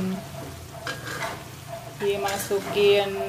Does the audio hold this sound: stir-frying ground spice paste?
yes